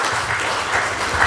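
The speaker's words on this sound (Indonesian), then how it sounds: "Kasih tepuk tangan itu Tuhan" Dense applause from a church congregation during a sermon, a steady wash of many hands clapping close and loud, with no talk over it.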